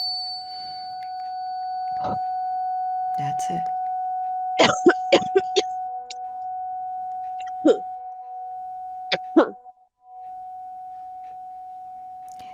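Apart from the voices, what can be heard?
tuning fork being struck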